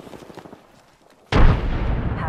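In Apex Legends, a frag grenade goes off after a stretch of quieter game sounds: a sudden loud, close explosion followed by a sustained roaring rumble.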